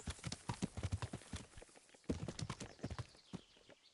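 Horse hooves clip-clopping in the video game Kingdom Come: Deliverance, rapid rhythmic hoofbeats in two quick bursts separated by a short pause, close and clear with no talk.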